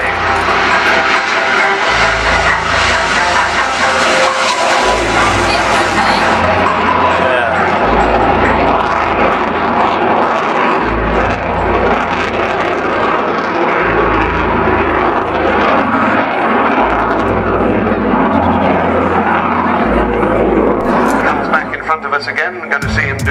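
SEPECAT Jaguar jet with Adour engines performing at the RNAS Yeovilton International Air Day 2005, a loud sustained roaring engine rumble that shifts as it passes, with an announcer talking over it.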